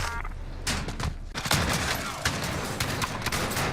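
Dragon's Breath R9-0 fire shotgun blasts in Call of Duty Warzone multiplayer, a rapid burst of loud, close gunfire with crackling impacts that swells into continuous dense shooting and explosive noise.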